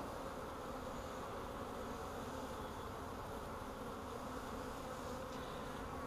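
Many honey bees of a colony buzz continuously, a dense steady drone close up, with no voices.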